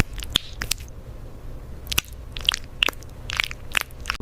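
Skittles candy being chewed, with sharp crunchy cracks of the hard sugar shell breaking at irregular intervals, close and fairly clear over a low background hum.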